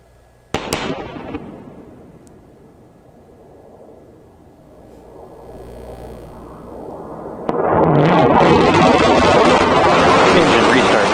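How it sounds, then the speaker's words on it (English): A New Shepard rocket booster's engine restarts during descent, arriving as a sudden loud broadband roar after quieter ambience and a couple of sharp pops, over a voice talking. "Approaching engine restart."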